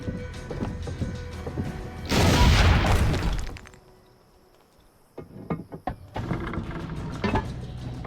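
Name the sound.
artillery cannon firing in video game Assassin's Creed Brotherhood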